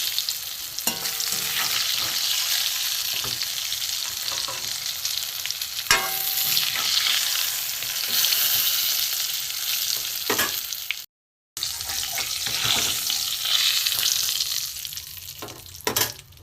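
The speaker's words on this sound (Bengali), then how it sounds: "সুন্দর ভাজা হয়ে লাল করে পটল ভাজা হয়ে গেছে, আমি তুলে নেবো। এই ঝরিয়ে ঝরিয়ে তুলে নেবো।" Slices of pointed gourd (potol) sizzle steadily in hot oil as they are lifted out and drained, with brief scraping and clinking of a utensil against the pan; no talking.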